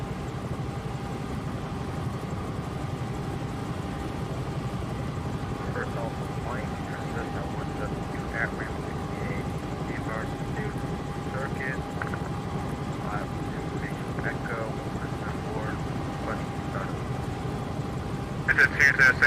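A Bell 222 helicopter in a flight simulator drones with a steady, even rotor and turbine hum flying near Boston, while radio and spoken talk continue over it throughout.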